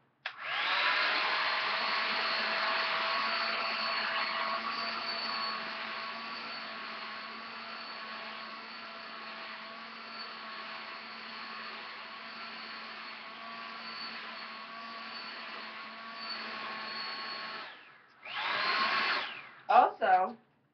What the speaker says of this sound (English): now I'm about to use the blow dryer